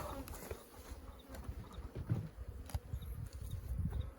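Bees from a colony cut out of a soffit in Spicewood, humming at a hive fitted with a queen excluder during late-season inspection at a ranch; a steady low buzz with scattered close passes and faint background noise, no talking.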